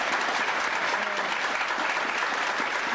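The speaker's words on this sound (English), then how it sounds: "Got an applause, Mom." Steady audience applause at a wrestling show, dense and sustained throughout, with faint crowd voices mixed beneath the clapping.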